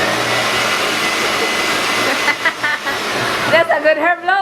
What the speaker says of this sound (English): That's a good hair blower when you bath